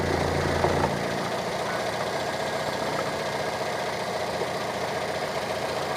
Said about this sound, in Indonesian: Suara mesinnya masih halus